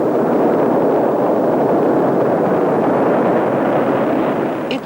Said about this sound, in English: Russia's Luna 1, in a gallant display of fireworks, just manages to make it off the launch pad bound for the moon